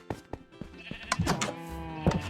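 Sheep bleating in an animal barn that also holds camels, cows and pigs: several short, close bleats in quick succession, some overlapping, with no talking.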